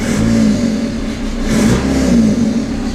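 Diesel-swapped Toyota Tacoma engine running close by, a steady loud rumbling drone that swells slightly in a couple of places, alone without talk.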